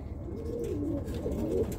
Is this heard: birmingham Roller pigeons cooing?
yes